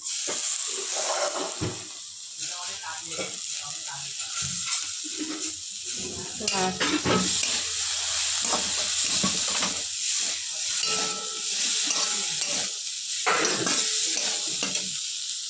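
Pasta with tomato, chilli powder and egg sizzles in a pan while being stirred, a steady loud frying hiss with scraping movements running throughout.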